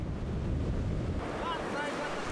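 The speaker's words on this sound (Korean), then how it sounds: "저 높은 파도를 넘으려나 봅니다." Big ocean waves break and surge around a small fishing boat off the coast of Madagascar, a steady wash of surf and wind roaring close and loud throughout, with no talk.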